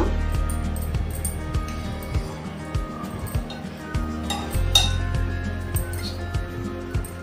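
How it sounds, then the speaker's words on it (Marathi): A metal spoon spreads a layer of cooked vegetables over a thin bed of rice in a ghee-greased pot, making repeated light clinks and scrapes against the vessel over a low, steady background. "आपण भाजीचा थर चमच्याने लावतोय।"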